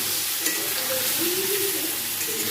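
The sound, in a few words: stirring frying food with turmeric in pan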